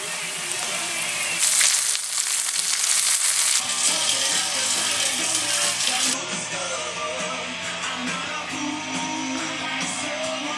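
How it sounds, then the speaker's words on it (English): Chicken cutlets pan-frying in hot oil for chicken parmigiana, giving a loud, dense, continuous sizzle and crackle up close that surges early and then settles to a steady hiss. "Make sure it's nice and hot before you throw your cutlets in."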